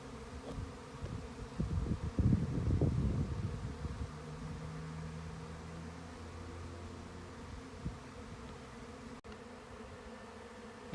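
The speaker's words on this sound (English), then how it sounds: "bees just swarmed, it looks like" A swarm of honey bees settling on a branch makes a dense, continuous buzzing drone, swelling loudest early on and then easing to a steadier hum.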